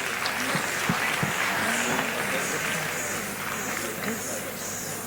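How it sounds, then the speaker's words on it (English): Audience at a college literature festival giving a round of applause, steady crowd clapping throughout with faint voices murmuring underneath, ending abruptly. "May I have a big round of applause for the audience?"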